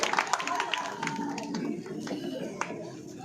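Audience applause greeting Dhanveer Singh Gujariya at a political gathering for ward residents, dense clapping mixed with crowd noise that thins out over a few seconds.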